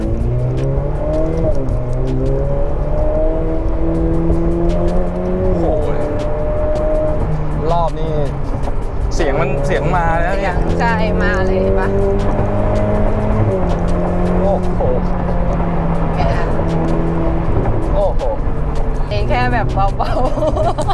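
A Ferrari 488 Pista Piloti accelerates hard from inside the car, its engine rising in pitch through several gear changes, loud and continuous, while people talk over it.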